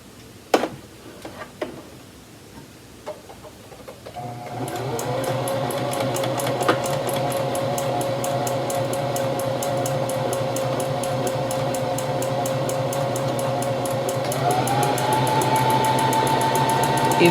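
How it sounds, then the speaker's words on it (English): A sewing machine stitches a sleeve band onto knit fabric. After a few soft handling clicks it starts up and runs at a steady, moderate, rapid ticking for over ten seconds, and its motor pitch rises slightly near the end. "I'm going to sew the other sleeve band."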